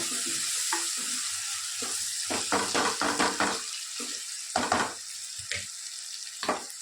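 Tomatoes and onions frying in a pan, a steady sizzle broken by repeated clattering stirs and scrapes, fairly close and moderately loud throughout.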